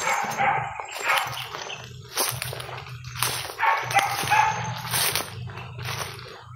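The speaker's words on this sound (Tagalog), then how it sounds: "May mga busis ng aso pero wala tayong nakikita." Several dogs bark repeatedly at a distance, overlapping in irregular bursts with some higher yips, against an outdoor background.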